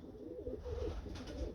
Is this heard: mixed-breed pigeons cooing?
yes